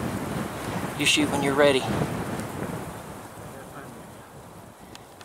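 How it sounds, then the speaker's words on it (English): Wind blusters across open Wyoming prairie during a pronghorn antelope hunt, a rough gusting rumble on the microphone that swells and then eases, while someone speaks briefly over it. "My only concern is the wind, and this is the layout of this land."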